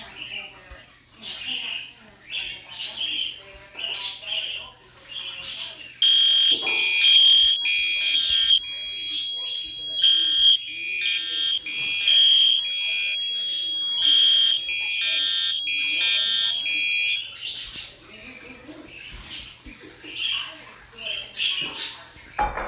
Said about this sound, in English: Okay, let's test the smoke detector.